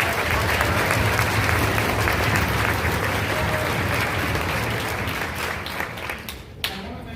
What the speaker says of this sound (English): If we can give a round of applause for our administration.